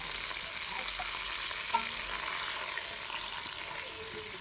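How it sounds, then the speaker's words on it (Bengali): A paste of onion, garlic and cumin frying in oil with green chillies over low heat, a soft steady sizzle with a couple of faint utensil clicks and no talking. "দিয়ে 2 মিনিট হালকা আঁচে ভাজবো।"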